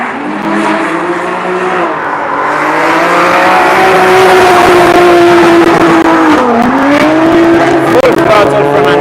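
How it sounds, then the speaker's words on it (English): A Nissan S14 drift car with a 2JZ engine of about 800 horsepower screams at full throttle during drift practice in Cyprus, a loud sustained howl with pitch swings and tire noise, close and continuous with a voice beneath. "Full throttle from Andreas Wax with his S14 2JZ, rocking around 800 horsepower"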